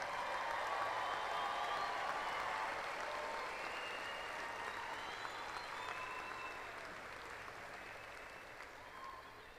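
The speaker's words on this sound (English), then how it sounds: "Let's give them one more round of applause." An audience at an Angelo State University fall commencement applauds in a broad, sustained burst of clapping that slowly tapers off, with a few faint cheers mixed in.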